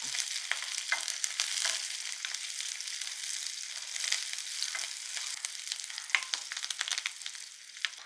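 Curry leaves with their stems fry in hot oil in a pan for a chutney. A steady close sizzle carries scattered sharp crackles and pops throughout, with no talking.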